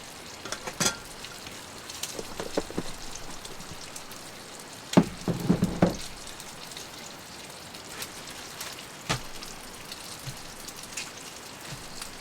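Bacon frying over a campfire while camping in the rain, a faint continuous sizzle and patter with scattered pops and crackles.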